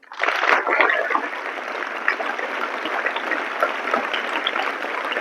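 A school audience at Holy Field Model Senior Secondary School in Narnaund, Hisar, breaks into sustained applause for a Nobel laureate. The clapping starts abruptly and keeps up as an even, hissing wash of many hands throughout.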